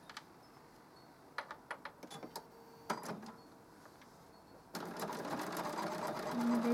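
Sewing machine stitching a quilted place mat: short clattering bursts of stitches separated by pauses, then a longer steady run of needle chatter that grows louder toward the end.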